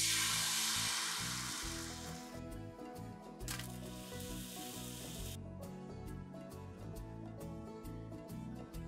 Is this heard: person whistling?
no